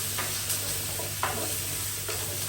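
Oiled vegetables in a roasting tray are tossed and stirred, giving a few soft scrapes and rustles over a constant steady background hum, no one speaking.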